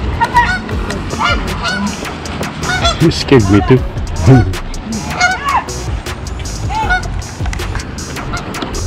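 Canada geese honk repeatedly beside a river, their calls overlapping in a lively chorus under people talking and laughing.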